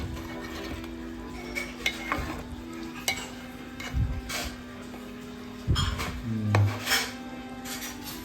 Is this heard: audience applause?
no